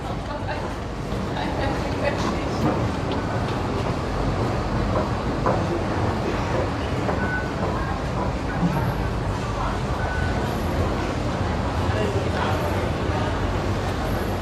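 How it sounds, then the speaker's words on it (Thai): Busy MRT Sukhumvit subway station ambience in Bangkok: a continuous roar of a train with rumbling and rail noise, murmuring voices mixed into the din. "อันนี้คือบรรยากาศ อยู่สถานีรถไฟฟ้า MRT สุขุมวิทนะคะ"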